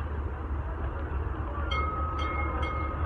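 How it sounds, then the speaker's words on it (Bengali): At a station, a train rumbles low and steady. Midway, a thin, high metallic squeal starts up, joined by a few sharp clanks as the cars begin to roll and depart. "এই যে ট্রেন ছাইড়া দিচ্ছে।"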